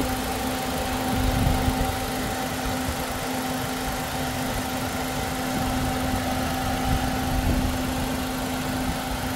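A 2024 Suzuki Vitara Hybrid engine idling, a steady low hum with a constant droning tone and faint mechanical rumble, close and even throughout, with no talking.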